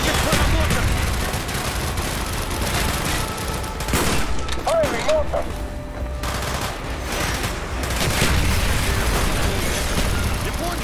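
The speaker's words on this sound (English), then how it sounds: "Firing mortar!" Dense battlefield gunfire and blasts from Call of Duty: Black Ops with mortar rounds firing amid sustained loud volleys, a continuous clatter of shots and booms with no pause across the stretch.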